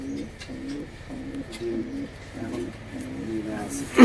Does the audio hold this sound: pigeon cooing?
yes